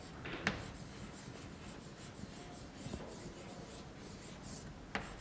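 Pen or pencil scratching on paper as a student writes along with the teacher in a Mongolian language lesson, a soft continuous rubbing with a few sharper taps, close and quiet, with no talk.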